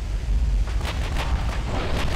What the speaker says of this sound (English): Look at all those torpedoes that just hit me